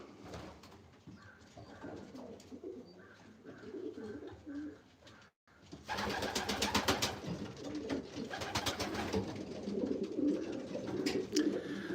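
Racing pigeons coo in a loft, with soft repeated calls heard under ongoing chatter and background noise, followed by a denser, louder stretch of cooing and rustling.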